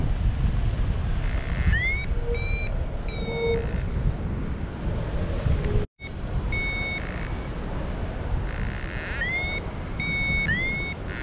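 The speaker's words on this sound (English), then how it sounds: "Feels like the wind's still kind of cooking." Steady wind roars and buffets a microphone on a flight from Blossom toward El Cap, constant broadband rush with one brief dropout midway, plus repeated rising electronic beeps from an instrument.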